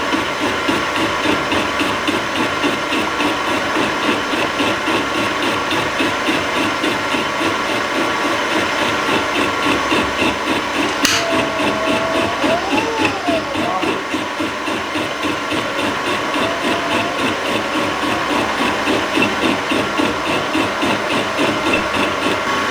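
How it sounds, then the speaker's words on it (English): A fly cutter takes a light finishing skim across a metal part on a milling machine during a belt sander repair, giving off a loud, steady, continuous machining whir and hum that runs throughout. "I'm going to go ahead and take a light skim on the whole rest of this thing as a fly cutter"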